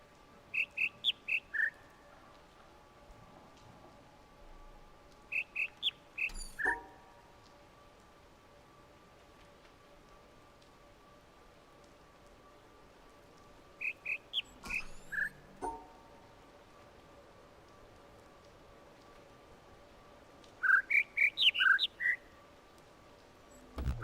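Bird calls in the video game The Witness, short clusters of quick high chirps repeating every few seconds over a faint, steady ambient hum, with no talk.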